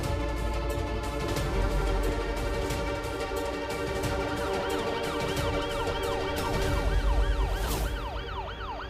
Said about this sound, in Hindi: सायरन की आवाज सुन रही है?